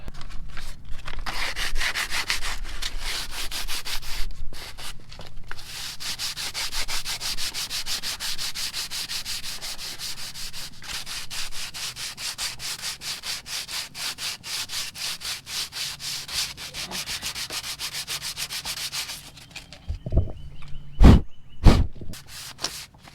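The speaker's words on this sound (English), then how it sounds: "I'm gonna sand the Skeg down this way." A damaged boat motor skeg is being sanded with long, continuous, rhythmic rasping strokes. The sanding is loud and close, then stops, and a few heavier knocks follow near the end.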